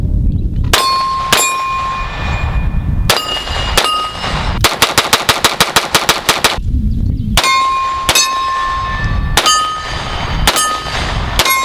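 A Glock handgun fitted with a Glock Performance Trigger fires loud, sharp shots outdoors, single reports spaced apart and then a rapid string of about a dozen, each with a ringing metallic clang.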